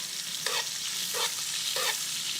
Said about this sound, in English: add the butter and baste that beautiful steak